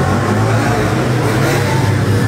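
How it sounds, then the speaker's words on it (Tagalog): Steady, loud motorcycle engine drone close by, a constant mid-pitched rumble with no pauses. "Sakto yung ingay ng motor."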